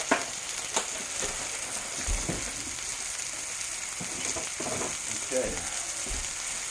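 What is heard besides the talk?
maple sausage frying in a pan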